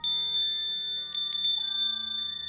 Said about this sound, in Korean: 먹이를 주지 않고 종소리만 울려도